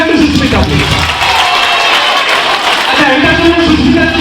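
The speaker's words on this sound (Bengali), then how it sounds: "Can we give a big hand to Susmita, please?" A school audience gives Susmita a big hand, loud clapping mixed with a crowd murmur and voices talking over it.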